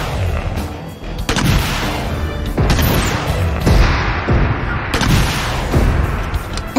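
Quad rocket launcher firing at a drone in a video game: dense, loud explosive blasts and booms repeat every second or so over a continuous roar of crashing debris and gunfire.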